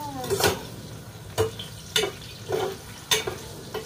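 Food frying in a pan at home, a soft steady sizzle broken by about six sharp clinks and scrapes of a utensil against the pan, spaced irregularly and close by.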